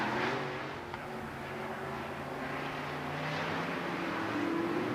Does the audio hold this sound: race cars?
yes